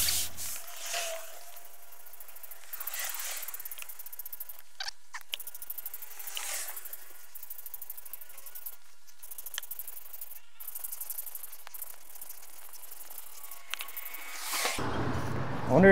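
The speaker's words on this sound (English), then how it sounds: "I wanted to really get in here and scrub this good" A stiff bristle brush scrubs a stained concrete pad in a run of rough, broadband swishing strokes that swell and fade, fairly close, with no talking.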